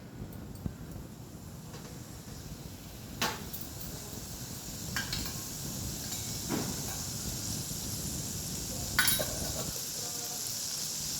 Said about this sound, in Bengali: কড়াইটা গরম হবে, ওর মধ্যে একটুখানি তেল দেবো